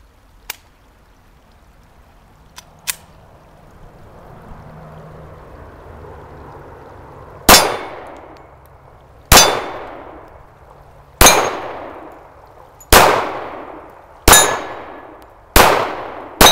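A Smith & Wesson M&P45 2.0 pistol fires six sharp, loud shots at a steady pace after a quiet lead-in, each report followed by a ringing clang from swinging steel targets.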